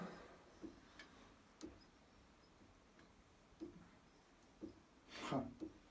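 An abandoned, grease-coated mechanical tower clock ticks faintly as its escapement works, giving soft, regularly spaced clicks about once a second, with a louder scraping rub near the end.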